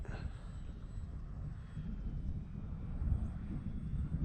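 An RC model airplane flies in and lands, a faint, distant engine buzz that is partly buried under gusty wind rumble on the microphone.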